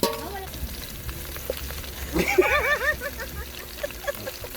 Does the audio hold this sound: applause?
no